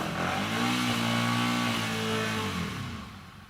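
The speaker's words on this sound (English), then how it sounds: "We can start the bike." Motorcycle engine revving up and holding a rising, buzzing tone with clear harmonics, then easing off and fading toward the end, close and alone.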